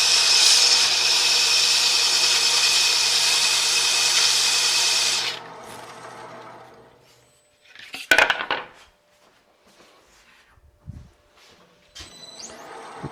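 Woodturning sandpaper pressed against a spinning piece on a lathe at a guild demonstration of segmented turning gives a loud, steady hissing rasp for about five seconds, then stops, followed by scattered faint handling clicks and knocks.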